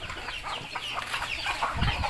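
Chickens clucking at an evening feeding on a backyard farm, a steady low chatter of many birds heard at moderate distance over outdoor ambience.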